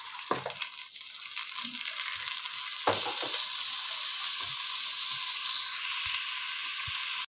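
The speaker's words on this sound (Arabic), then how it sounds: "هو كده ايه يعني اتغلف بايه بالسمنه والزيت" Washed white rice fries in a spoonful of oil and a spoonful of ghee in a pan for Egyptian fatta, giving a steady, close sizzle. A couple of scraping stirs cut through it, with no talking.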